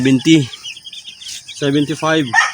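Several bursts of high, repeated peeping from broiler chicks, close by, with short gaps of quiet between the calls.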